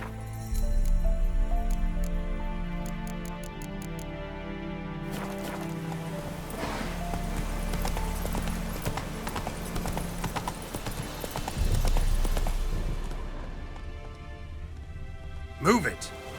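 The horse Roach gallops through The Witcher 3 with rhythmic, loud hoofbeats that run almost without a break. Swelling music plays underneath, and a sharp bright hit sounds near the end.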